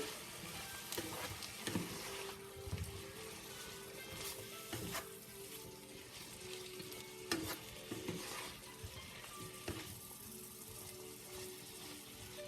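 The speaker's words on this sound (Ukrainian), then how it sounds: "І сюди ж відправляємо нарізаний помідор. перемішуємо." Chopped tomato frying in oil in a pan, stirred repeatedly, with a continuous sizzle and recurring scrapes and clatters of the spoon, close and fairly quiet, with no talk.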